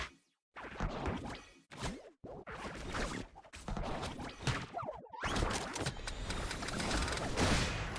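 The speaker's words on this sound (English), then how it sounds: "You gotta avoid the bullets from Rust, my boy. That is a very, very strong gun." Gunfire and whooshing attack effects in the fighting video game Flash Party, rapid bursts and swishes in quick succession, fairly quiet, with short gaps between volleys.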